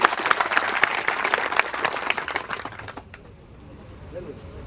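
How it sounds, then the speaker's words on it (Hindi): Loud crowd applause at a political rally stage in Jharkhand, dense and continuous clapping for about three seconds before it drops away to a quiet murmur. "इनके लिए एक बार जोरदार तालियां सबकी को दी"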